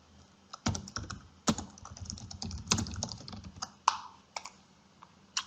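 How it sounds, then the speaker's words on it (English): Keystrokes clatter on a computer keyboard while notes are typed onto a page, coming in irregular bursts of close, crisp clicks with short pauses between them. "you can also type anywhere on the page as well"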